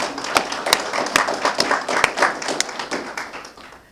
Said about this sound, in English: let's give a round of applause to both of our presenters